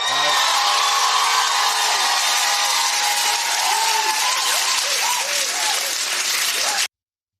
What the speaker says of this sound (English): And I left the entire applause in this one.